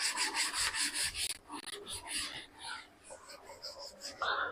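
A classroom board is rubbed clean with quick, rhythmic scraping strokes, followed by someone speaking Hindi over lighter rubbing.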